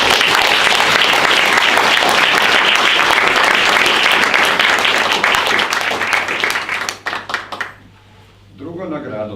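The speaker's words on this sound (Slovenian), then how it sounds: "Čeprav je ni, vseeno predlagam en aplavz." An award ceremony audience gives a loud, dense round of applause for prizes honouring work about Slovenes living abroad. Sustained clapping fills the room for several seconds, then thins out and fades to scattered claps.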